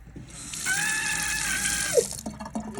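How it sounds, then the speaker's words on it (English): A sink tap newly connected in a tiny house build runs steadily, a close, continuous hiss of flowing water lasting a few seconds with a small clink partway through. "It looks like they got the water on."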